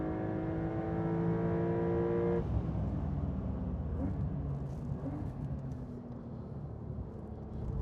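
A 2025 Porsche 911 with standard brakes drives on a track in light rain. Its engine drones with a steady harmonic tone for a couple of seconds, then drops away into road and wind rumble as the throttle eases.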